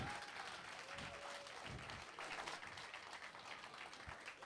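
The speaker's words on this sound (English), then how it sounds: "Give them a round of applause." Faint applause from a crowd after an 80-pound match at a competition, steady clapping with a few voices mixed in.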